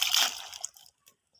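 Hard pieces of watermelon rind tipped into water in a wok make a brief sloshing splash with a few clattering knocks, quickly fading to quiet.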